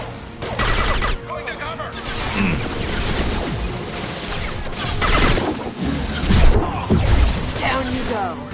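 Rapid bursts of gunfire and impacts crackle through a firefight in the video game Mass Effect 2, loud and continuous, with crashes and whooshes mixed in while a character shouts over the battle.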